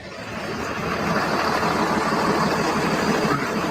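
A diesel truck engine idles nearby, a steady, loud broadband rumble with a low throb that holds constant throughout, with no talking over it.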